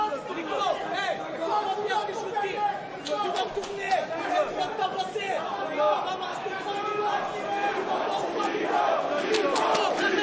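A fight crowd at a PFL Europe lightweight MMA bout roars and chatters steadily, rising late in a grueling final round with loud, sustained cheering and shouts.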